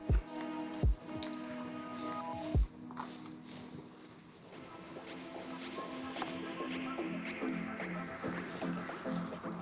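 Scissors snipping hair during a reverse layered haircut, a few crisp sharp cuts early on, then quieter close snips and faint handling sounds.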